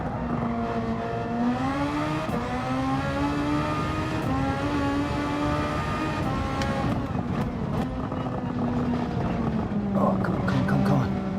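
A Gran Turismo 7 race car engine held at a steady high drone through the Carousel corner, its pitch sagging and climbing with throttle, loud and continuous, with other cars faintly around it.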